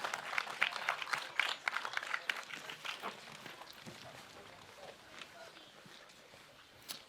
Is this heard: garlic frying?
no